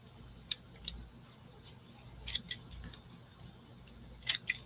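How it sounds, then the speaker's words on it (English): Scissors snip a flat sheet of aluminum in a handful of sharp, quiet clicks and crisp cuts, spaced unevenly over a near-silent room background. "Let me get some scissors."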